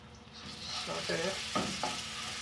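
Cumin seeds and ginger garlic paste sautéing in a couple of tablespoons of oil, a soft steady sizzle broken by a few quiet spoon scrapes and knocks against the pan.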